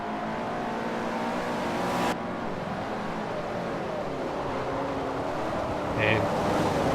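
Race car engine roaring steadily in Forza Motorsport 4 during a racing series event, a continuous loud drone with a brief tonal shift midway, heard alone.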